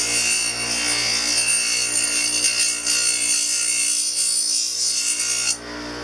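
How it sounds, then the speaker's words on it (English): A rotary wheel grinds and trims an acrylic partial denture in a close, continuous high whine with rasping contact, then cuts off abruptly near the end. "trim away your tooth with the other side of the wheel there"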